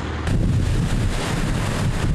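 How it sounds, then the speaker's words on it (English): Strong wind on a cloudy day in Ludington buffets the microphone with a loud, continuous roaring rumble that swells just after the start and never lets up. "It's a cloudy and windy day"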